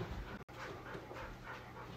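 A dog pants steadily and rapidly while playing with a snake toy at home, with continuous breathy panting and a brief dropout partway through.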